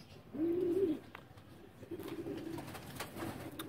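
A breeder pair of teddy pigeons coo softly nearby: one full rolling coo, a short pause, then a longer, lower murmuring coo over faint room background.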